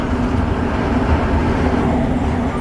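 Montreal Metro Orange Line train arriving at a station during a service disruption, a loud steady low rumble with a sustained hum and no speech.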